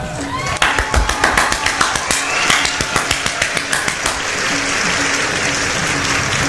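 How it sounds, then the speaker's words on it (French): Applause outside a tent at a campsite at night: sharp, rhythmic claps ring out over a wash of crowd noise, then settle into dense, continuous clapping that stays loud and close. "Mais si juste il y avait des applaudissements, ok."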